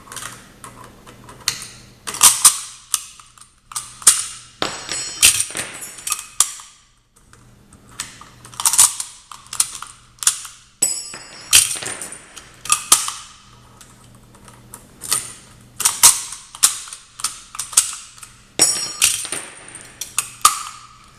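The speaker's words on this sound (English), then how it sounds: "What I'm going to do is load 10 rounds, and then I'm not going to release the bolt or anything." Rounds are loaded into an SKS rifle in bursts of sharp metallic clicks and clacks, with quiet gaps between groups of loading and no talking.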